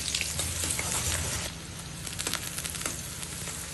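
Taro leaves (kochu shak) fry steadily in a pan, a dense, even sizzle that softens slightly partway through, with faint stirring clinks and no talking.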